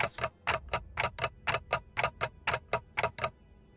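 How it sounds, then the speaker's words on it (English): Steady ticking from a clock-like source in a Limbus Company fandub scene, about fourteen crisp, evenly spaced ticks at a regular rhythm, close and clear with no talking. "Ticking is all I can hear."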